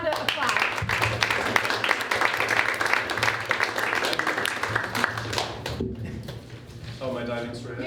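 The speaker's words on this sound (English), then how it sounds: "So let's give him a big round of applause." An audience at a film funding panel claps for a speaker, a dense burst of hand claps lasting several seconds before it fades and a person begins talking.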